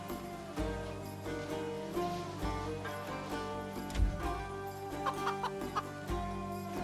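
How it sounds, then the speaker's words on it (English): A chicken man character in the video game Titan Quest II clucks repeatedly over steady game music, with a few sharp clucks standing out near the end. "What the heck? Is he clucking?"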